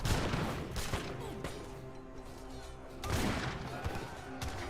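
Massed musket volleys crackle in an Age of Empires 3 battle, a dense run of overlapping gunshots with a fresh loud burst about three seconds in, no voices over it.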